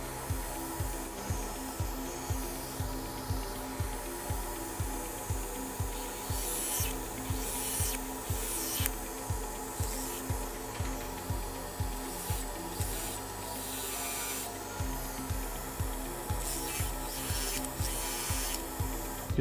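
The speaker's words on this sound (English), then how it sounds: "our medium disc will continue the contouring" Dental FlexiDisc abrasive discs finish and contour a composite restoration with a continuous low motor whine and rapid rhythmic rubbing, scraping strokes, steady and close.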